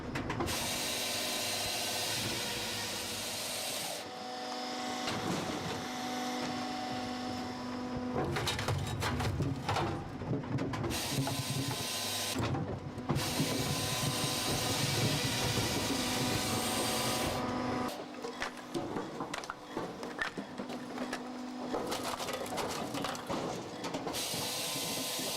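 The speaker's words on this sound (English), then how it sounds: "A rotating star-shaped wedge spins into action, dividing the log into equal parts" A DR Rapid Fire 28-ton wood splitter with a rotating star-shaped wedge splits logs, making loud mechanical grinding, ratcheting and clattering in long bursts with brief pauses between them.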